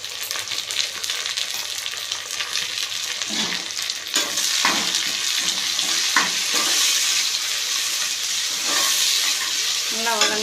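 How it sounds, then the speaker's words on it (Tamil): Mint leaves sauté in hot oil in a pan for chicken biryani, giving a steady, close crackling sizzle. A few sharp stirring scrapes break through it, and the frying grows a little louder partway through. "நல்லா வதங்கட்டும்."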